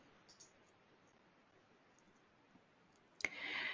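A single sharp computer mouse click at the end, close and crisp, followed by a brief burst of faint noise after a quiet stretch.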